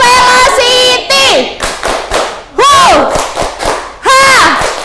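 A classroom of students performs a 'tepuk velocity' clapping chant, loud rhythmic bursts of claps mixed with energetic shouted chanting voices, repeated in several quick rounds.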